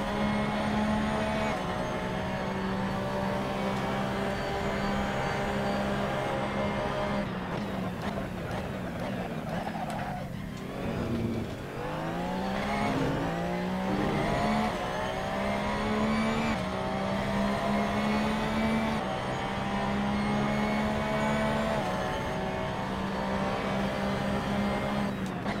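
Race car engine in Assetto Corsa on PS4 at the Red Bull Ring, Austria, droning loud and continuous throughout, with pitch swooping down under braking and climbing again through gear changes, other cars audible nearby.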